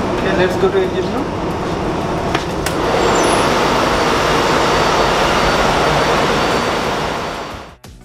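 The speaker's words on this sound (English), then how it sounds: "This is a 4-stroke medium speed engine of 3300 kilowatt and 600 RPM." Engine room of an oil-chemical tanker ship, with a 3300 kW, 600 RPM four-stroke medium-speed main engine running as a loud, steady broadband roar and hum throughout, cutting off abruptly at the end.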